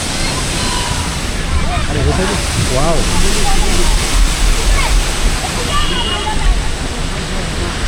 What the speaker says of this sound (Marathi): एकदम गाईज एकदम छोटासा धबधबा